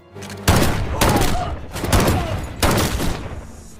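Four sharp gunshots in an action film ring out at uneven intervals, each loud and close with a short echoing tail.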